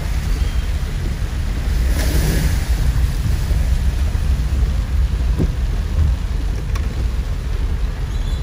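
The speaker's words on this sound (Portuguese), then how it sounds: "Deixar que tá chovendo mais" Heavy rain pours steadily onto a flooded street on Avenida Ático Vilas Boas da Mota in Macaúbas, Bahia, a dense continuous wash of water noise filling the scene with no voices.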